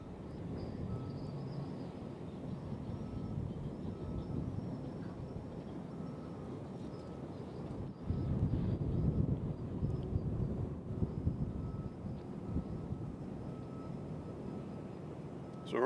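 A Contour airliner departs Nashville International Airport toward runway 20 left: a steady, distant jet rumble heard through heavy, gusting wind buffeting the microphone, with no break throughout.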